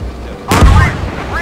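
An M60A1 tank cannon fires once in the tank game GHPC, a single loud booming blast that rolls off into a rumbling decay.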